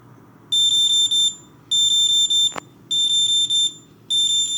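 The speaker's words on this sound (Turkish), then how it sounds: "Bu şekilde e, zamanlayıcı çalıyor." Electronic beeping timer alarm from a digital kitchen scale, sounding in four bursts of rapid high-pitched beeps, close and loud, with a brief click between bursts and a quiet background hum.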